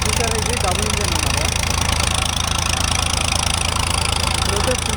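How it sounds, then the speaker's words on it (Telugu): A double-engine machine idles at a construction site in Amaravati, giving a loud, steady mechanical rumble with a rapid even pulse that runs unbroken throughout. "ఇది డబుల్ ఇంజిన్ అన్నమాట."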